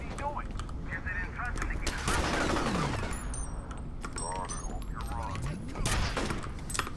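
Rapid sustained automatic gunfire from security guards in the shooter game F.E.A.R., dense bursts and impacts mixed with whooshing game effects, loud throughout.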